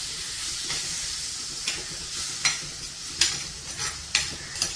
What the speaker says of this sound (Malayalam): ഇനി ഇതെല്ലാം കൂടി ഒന്ന് മിക്സ് ചെയ്ത് കൊടുക്കാം